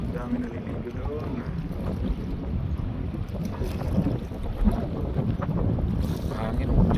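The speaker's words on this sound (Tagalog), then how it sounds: "Mahangin, medyo mahangin siya." Steady wind gusting over an outdoor waterside spot in Dublin, Ireland, a constant low rumble of buffeting across the microphone with faint background activity, no clear voices standing out.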